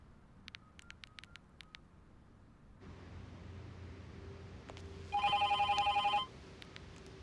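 A few faint clicks and taps give way to an electronic phone ring, a rapid trilling burst lasting about a second in a quiet room.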